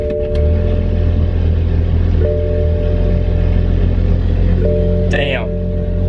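A BMW 435i with catless downpipes and an aftermarket exhaust driving, a loud, steady low engine drone with no obvious revving, while a voice talks over it.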